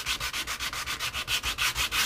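Sanding in the corners of a wooden boat wheelhouse makes a close, rhythmic back-and-forth rasp, about a dozen quick strokes in steady succession.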